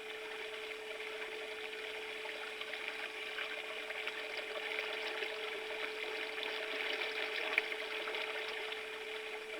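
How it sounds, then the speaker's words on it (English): Steady stream water flowing along a nature trail, a continuous soft rushing and trickling wash with even level throughout, heard alone with no voices. "I closed my eyes and listened to the stream."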